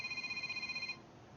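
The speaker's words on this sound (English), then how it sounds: "I'm getting a phone call" A telephone rings with an incoming call, its steady pulsing electronic trill lasting just under a second before cutting off and leaving low room noise; no talking.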